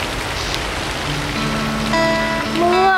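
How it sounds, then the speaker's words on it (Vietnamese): Steady rain falling outdoors in a staged Vietnamese cải lương opera scene makes a continuous hiss, with sustained tones and a rising voice-like note coming in toward the end. "À, mưa rồi đó con."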